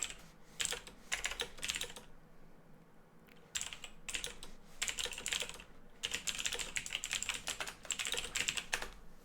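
Fast typing on a computer keyboard, in bursts of rapid clicking keystrokes separated by brief pauses, close and clear, with no talking.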